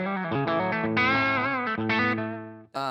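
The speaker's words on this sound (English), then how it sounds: "Now, let's go to that higher output PAF." An electric guitar through a Fishman Fluence Open Core Classic higher-output PAF pickup, likely on the bridge position, plays a few sustained, overdriven chords and notes with a slight chorus-like shimmer, ending with a brief sharp attack.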